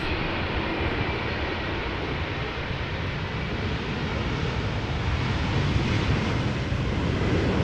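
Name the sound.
Boeing 777 arriving at Amsterdam Schiphol Airport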